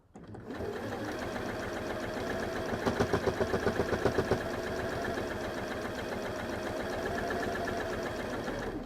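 A sewing machine runs steadily while stitching the handles onto a Morsbag, a continuous close mechanical whir with a brief rhythmic knocking patch partway through, no voices.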